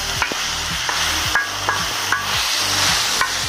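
Seasoned meat with salt and garlic frying on a plow disc for feijão tropeiro, a loud steady sizzle broken by repeated scraping strokes of a spatula stirring the meat.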